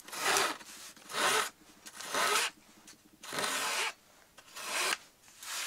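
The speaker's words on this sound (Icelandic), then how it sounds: "svo ég saga bara í hana líka og bitana í leiðinni" Hand saw cutting through the wooden cladding and beams of a Kwik-fli Mk III model aircraft, six long rasping strokes in an even back-and-forth rhythm, close and alone.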